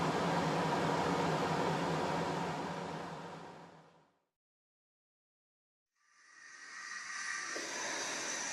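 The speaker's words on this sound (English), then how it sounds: "Apologies for the background noise, that's that brake fan which is over there." Brake fan noise from a model locomotive sound chip on a layout for an Airfix 4F tender-drive conversion: a steady broad hiss that fades to silence, then returns brighter and thinner.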